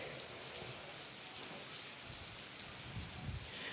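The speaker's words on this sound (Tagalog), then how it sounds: "nakakaranas ng malakas na ulan at hangin itong bayan ng Santa Ana sa Cagayan" Heavy rain pours steadily as typhoon Krising lashes the town of Santa Ana in Cagayan, a continuous wash of rainfall with gusty rumbles near the end and no voices.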